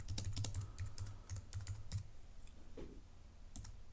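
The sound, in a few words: typing text on a computer keyboard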